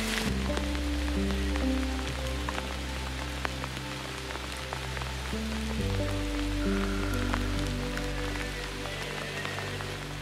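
Hard rain falling steadily on the surfaces of a Scottish lowland forest, a continuous dense patter with scattered drips, heard under background music and with no talking.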